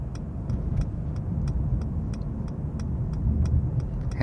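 A car drives along a road while changing lanes to the right, with a steady, close low engine and road rumble inside the cabin and a faint regular ticking like a turn signal, with no talking.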